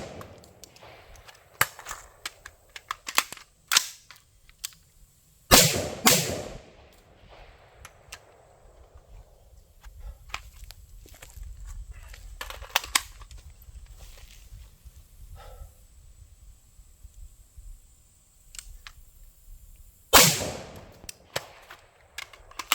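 A rifle built on a Palmetto State Armory Mk12-style 20-inch M-LOK upper fires two loud, sharp shots far apart, with lighter clicks and handling noises between them.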